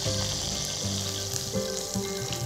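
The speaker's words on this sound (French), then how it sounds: "je vais mettre mes graines de coriandre dans la poêle et les faire torréfier pendant juste 2 minutes" Coriander seeds toasting in a hot frying pan, making a steady close crackling sizzle with faint rolling and rattling as the seeds shift, continuous and fairly quiet, with no talking.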